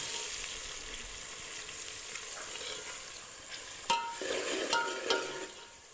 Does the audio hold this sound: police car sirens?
no